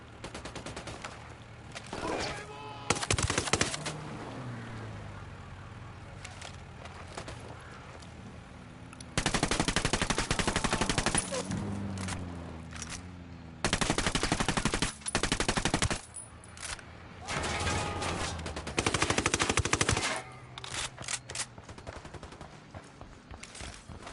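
Gunfire from the video game Ghost Recon Wildlands: loud bursts of automatic weapon fire break out repeatedly, some short and some sustained for a few seconds, with quieter gaps between volleys.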